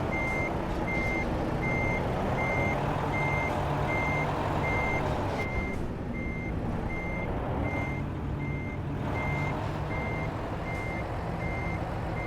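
A semi truck's reversing alarm beeps steadily in a driving simulation game, a regular train of evenly spaced tones over a loud, constant engine rumble with a brief hiss partway through.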